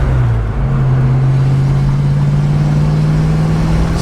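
Steady low drone of a 1989 Ford Mustang engine while driving, heard from inside the car. It holds a constant hum and the pitch rises slightly as it pulls along, with road noise underneath.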